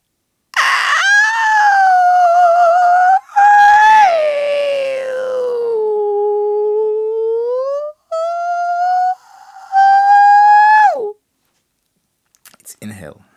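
A human voice imitates a pigeon's mating call with drawn-out, wavering hoots that slide and dip in pitch across several long phrases, close and fairly loud, ending with a brief rustle.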